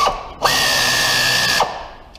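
A power drill spins a Cal-Van tool into the spark plug hole of a Triton engine, whining at a steady high pitch for about a second before cutting off.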